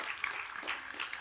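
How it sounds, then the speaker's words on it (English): Studio audience applause at an improv comedy show, a faint, steady patter of many hands clapping for a little over a second. "we'd like you to applaud loudly for them"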